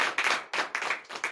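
A church congregation at a morning prayer service in Comè, Benin claps in a brisk, close rhythm, with several sharp bursts of handclaps separated by brief gaps.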